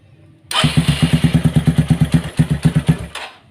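A motorcycle engine starts with a sharp burst and idles roughly in loud, even, lumpy pulses, running harsh because oil is not reaching the cylinder head, then cuts off after about three seconds.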